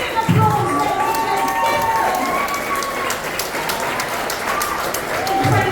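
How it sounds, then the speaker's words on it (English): Applause and cheering fill a gala room at the Jonathan Club, a steady dense roar of clapping and crowd noise with a voice carrying over it throughout. "It's got to be deafening applause"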